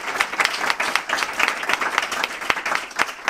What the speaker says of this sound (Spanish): Qué bien, un aplauso a mí.